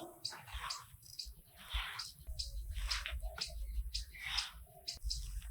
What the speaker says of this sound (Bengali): প্রথমে একটু হাত দিয়ে ভালো করে সব কিছু মিশিয়ে নেব